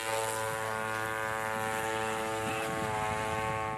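A Seahawk helicopter during a naval exercise gives a steady, loud rotor and engine drone with a constant harmonic whine, holding even throughout with no talk.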